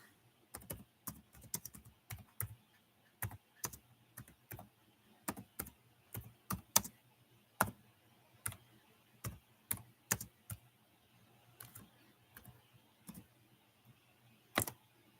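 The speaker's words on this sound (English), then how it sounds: "Let me get it typed in." Slow typing on a computer keyboard, single crisp key clicks spaced irregularly over a quiet background, close and alone with no talking.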